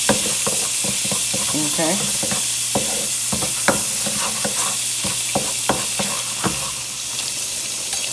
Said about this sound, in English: Just to break down my tomato paste. So this way we can get this to fry for about 2 minutes.